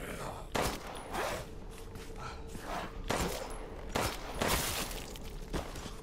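Several sharp, loud gunshots fired at irregular intervals in the video game Resident Evil Village, with quieter game ambience and shuffling between the bursts.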